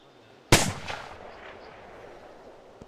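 A single heavy artillery blast in a military video game cracks loudly and then rolls away in a long fading rumble. No other shots follow and nobody speaks.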